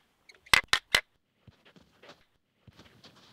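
A film clapperboard snaps shut three times in quick succession, sharp close claps, followed by faint scattered rustles and small handling noises.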